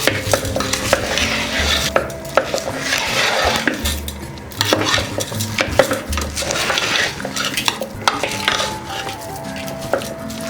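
Sugar candy (kalkandu) going into a pot of pongal rice and being stirred, with a steady run of spoon scraping and clinking against the metal vessel, close and moderately loud, with no voices.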